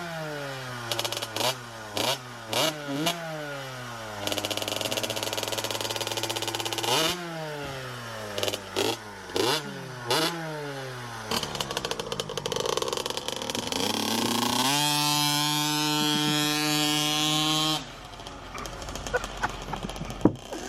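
A two-stroke motorcycle after a top end rebuild, the engine revving repeatedly in sharp rising bursts, then holding a high buzzing drone before cutting back, loud and close.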